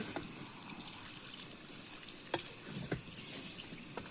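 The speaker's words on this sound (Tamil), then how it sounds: "இது அரிசி கழுவுன தண்ணி ஊற்றவா?" Rice-washing water poured into a pot of pepper chicken curry gravy, a soft continuous trickle and dribble of liquid with a few small splashes, fairly quiet and close.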